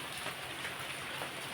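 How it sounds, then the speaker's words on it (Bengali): Steady rain falling on a house on a wet morning, a continuous dense hiss of drops on surfaces with no break, close and even throughout. "এদিকে দেখি বৃষ্টিটা শুরু হয়ে গেছে"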